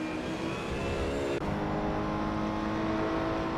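A GT3 race car engine in a racing video game drones at steady high revs, holding a sustained whining tone with a brief dip partway through as if shifting gear.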